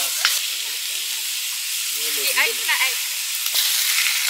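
Steady loud sizzling of food frying in a pan over a campfire while camping in an orchard in Malaysia, with a person speaking briefly over the hiss.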